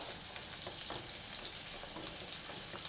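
A continuous, even sizzle of cheese melting and crackling in a hot pan, close up and unbroken, with no voices.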